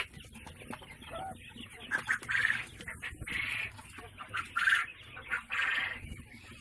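Many quail chicks crowded into a small space on a quail farm in Golaghat, Assam, giving repeated high-pitched chirping bursts at close range over a steady low background murmur.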